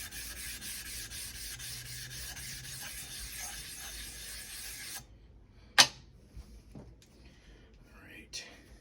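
A ZDP-189 core-steel Bunka knife rasps in steady, close strokes across a Suehiro #1000/#6000 combination whetstone for about five seconds, then the scraping stops, leaving near quiet broken by a sharp tap and a few faint touches.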